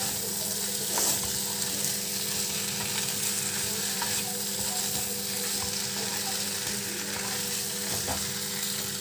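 Samosa filling fries in a pan, with a steady close sizzle throughout and occasional soft scrapes of stirring, over a constant low hum.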